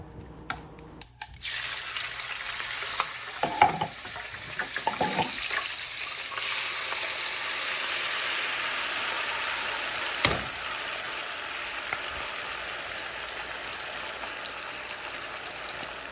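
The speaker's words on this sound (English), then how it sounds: "I'm going to be frying this in pure vegetable oil." Peppers frying in hot vegetable oil in a pan on medium heat: a loud, steady broadband sizzle that starts abruptly after a quiet second and holds for the rest of the clip, with a few faint clinks and knocks underneath.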